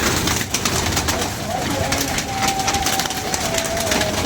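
Pigeons coo under a steady, noisy background with a faint rumble like a passing train and a thin whistling tone, the birds fairly close but partly masked, with some voices mixed in.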